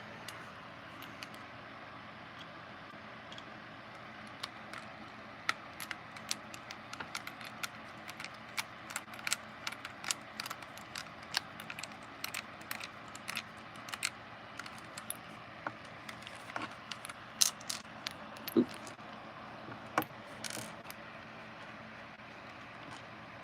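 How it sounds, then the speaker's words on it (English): Screws being driven back into a Furby with a screwdriver, a scattered series of faint, sharp clicks and light scrapes at irregular intervals over a quiet background hum, close by, with no talking. "Okay, so now we can put the screws back in. Hey. Here's my screwdriver."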